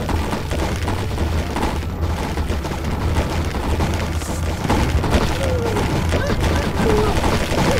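Cannons fire in a battle video game, a dense continuous rumble of booms and shattering impacts with steady low-end roar throughout, loud and unbroken.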